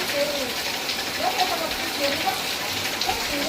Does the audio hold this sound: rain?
yes